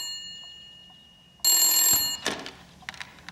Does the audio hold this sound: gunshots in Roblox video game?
no